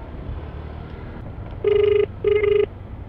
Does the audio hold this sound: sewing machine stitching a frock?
no